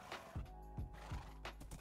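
A horse neighs in a hardcore survival island video game, a quiet whinny with a few clip-clop hoof steps, close and clear over a steady low background.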